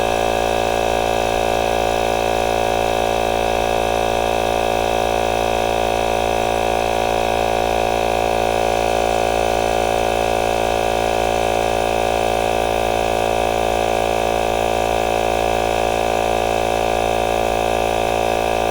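A Veapoot portable tire inflator pump runs steadily, a loud, close, even motor-and-piston drone with a buzzing hum that holds unchanged throughout.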